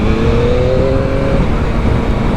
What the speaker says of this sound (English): accelerating off there. This bike's got some go in it.